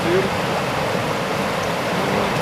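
Chlorinated water from a municipal water-supply system pours into a river channel near Bila Tserkva, Ukraine, making a steady, loud, close rushing flow throughout.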